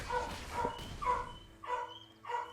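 Outside, a dog gives several distinct barks at irregular intervals, about five medium-loud yaps with no talking over them.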